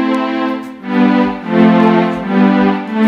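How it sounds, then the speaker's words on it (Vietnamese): A Roland FP-10 digital piano played on its strings voice, sustained layered chords swelling and shifting in three or four slow phrases, fairly loud and alone with no talking. "Đây là tiếng string."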